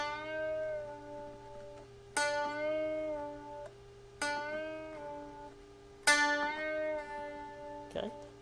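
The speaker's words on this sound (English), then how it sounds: "Now the bend you may be more familiar with is what's called a bend and release." Electric guitar string struck, bent up in pitch and released back down, repeated about four times at an even pace; clear, sustained, moderately quiet notes ringing alone.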